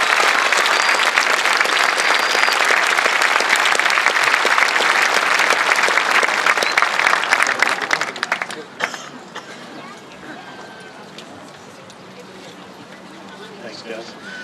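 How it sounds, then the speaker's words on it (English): Dense applause from a graduation audience at Leominster High School, loud and sustained for about eight seconds before thinning into scattered claps and quiet room noise. "If we could please have a round of applause for our wonderful advisors."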